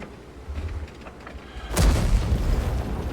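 A Char tank fires its main gun in a tank video game: after quieter rumbling, a sudden loud boom bursts out and rolls on into a sustained, heavy rumble, with no talk.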